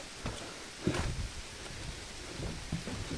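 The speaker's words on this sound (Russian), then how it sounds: "И дождь, и дождь, и дождь." Steady, soft rain hissing throughout on an ancient pilgrim trail to the Preah Vihear megaliths in Cambodia, with a few low thuds and rustles in the background.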